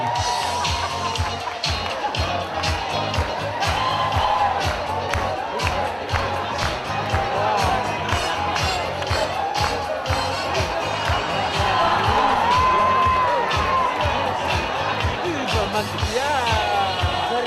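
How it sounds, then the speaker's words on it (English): A crowd at a gala dinner awards ceremony cheers and claps continuously, with loud shouting voices and a noisy, busy hall atmosphere throughout. "Let's give them a round of applause."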